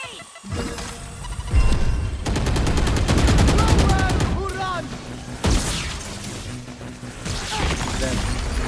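Rapid gunfire bursts and shots in a tactical shooter match, loud and continuous with crashes and booms, ringing out beneath a player's voice calling out.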